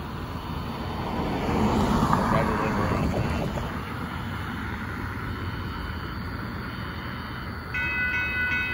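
A northbound Union Pacific mixed freight train passes at Dittmar Road in Austin, Texas, as a broad, steady rumble that swells around the second second and then holds at a constant rolling level.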